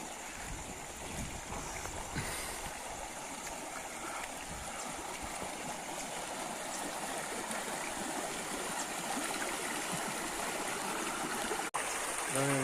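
Rainwater running along village roads and past fields after heavy rain, a steady rushing, trickling flow heard close and continuous throughout, with a faint voice briefly underneath.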